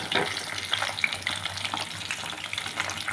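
Mushroom 65 pieces sizzle in hot oil as they are stirred in the pan, a steady close crackle broken by sharp spatters and the scrape of the spoon.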